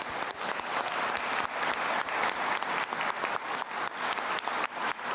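An audience at a Mexican panel on judicial jurisprudence gives the speakers a round of applause, brisk and even clapping from a roomful of people, close and steady throughout with no talking.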